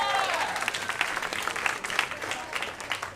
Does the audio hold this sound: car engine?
no